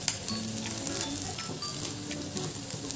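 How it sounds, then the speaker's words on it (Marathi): Tikki patties frying in a pan until golden, giving a constant close, even sizzle of oil with light crackles throughout and no voices. "खालच्या बाजूने देखील अशाच त्या थोड्याशा सोनेरी रंगाच्या होईपर्यंत फ्राय करून घेणार आहोत"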